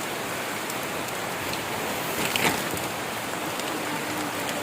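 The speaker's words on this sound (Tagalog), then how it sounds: "Grabe ang ulan oh." Heavy rain pours down in a dense, steady hiss, with a brief louder patter partway through and no voices.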